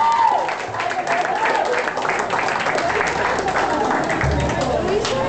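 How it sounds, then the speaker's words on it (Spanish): A crowd applauds at a birthday party, with steady clapping and cheering mixed into loud chatter and shouting voices throughout, close and dense. "¡Haz un pinche aplauso, por favor,"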